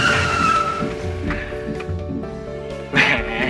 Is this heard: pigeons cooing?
no